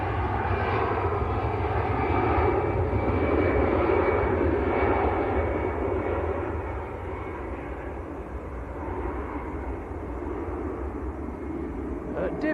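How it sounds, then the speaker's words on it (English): A ten-year-old Airbus A320 at Manchester Airport roars steadily and loudly throughout, a broad continuous jet rumble that eases slightly toward the end. "Airbus A320. That aircraft is 10 years old."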